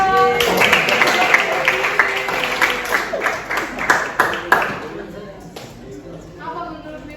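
A classroom breaks into applause for a student, brisk many-handed clapping lasting about four seconds before fading into quieter room noise, with voices talking alongside.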